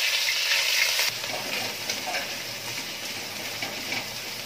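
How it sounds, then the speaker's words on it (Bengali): Chopped onion frying in mustard oil in a pot for mutton curry gives a loud, steady, close sizzle with faint stirring scrapes and no voices. "এবার দিয়ে দেবো এর মধ্যে পেঁয়াজ কুচি।"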